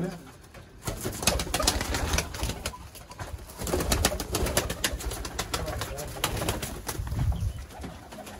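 Sialkoti breeder pigeons, the 35-wala kind, coo repeatedly at close range in soft, throaty bursts, with wing and cage rustles mixed in.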